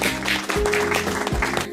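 Children clap their hands together in a classroom-style game, a dense burst of many small hands smacking at once that fills the short stretch with steady, close applause.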